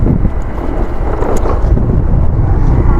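Loud, constant wind roar battering a loose helmet on a Grab motorbike ride up toward the Lady Buddha in Da Nang, a dense low rumble with steady buffeting and no speech.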